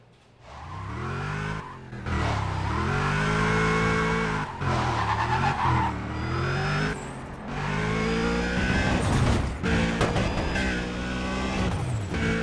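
A car in the racing video game Need for Speed World revs its engine with rising and falling pitch while tires skid and squeal repeatedly, loud and close, with no talking.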